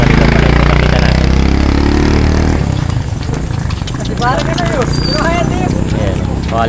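A horse at a horse race gives off clip-clop hoof sounds and stamping amid a crowded event, with an engine rumbling early on and voices talking throughout.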